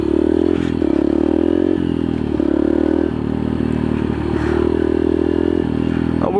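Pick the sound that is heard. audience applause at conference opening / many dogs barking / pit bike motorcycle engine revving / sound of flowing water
pit bike motorcycle engine revving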